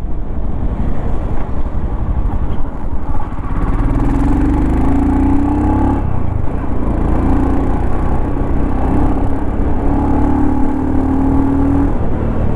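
A 2025 Royal Enfield Scram 440 adventure motorcycle, around 34 Nm of torque, accelerates from a close riding position, its engine note rising in pitch through several gear pulls over loud continuous wind and road noise.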